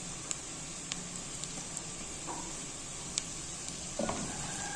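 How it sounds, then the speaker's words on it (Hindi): Sliced onions with ginger-garlic paste frying in a pan, a soft, steady sizzle with scattered faint pops and a light stir near the end, quiet and unaccompanied by speech. "अब इसको भून लें लाइट गोल्डन प्याज, ज़्यादा डार्क नहीं करनी"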